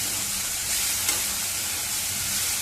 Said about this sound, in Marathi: आता मिनिटभर हलकासा सुगंध सुटेपर्यंत खोबरं सुद्धा चांगलं तुपावरती परतलेलं आहे